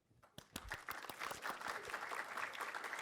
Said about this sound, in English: please join me in welcoming Sotirios with a warm applause